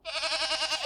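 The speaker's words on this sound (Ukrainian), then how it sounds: "Вірно, це кізонька мекає." A single wavering goat bleat, close and clear, lasting under a second.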